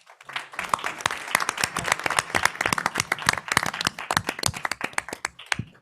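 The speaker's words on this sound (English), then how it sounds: "I'm glad the audience applauded that" Audience members at the 2023 Health Care Cost Trends hearing clap for several seconds, with distinct, sharp individual claps from a modest crowd that taper off at the end.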